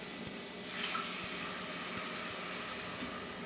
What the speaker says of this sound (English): you add half a cup of vegetable stock